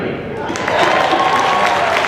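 An audience in a concert hall applauds a junior high honor jazz band, a loud, dense patter of clapping that swells slightly partway through and continues steadily to the end.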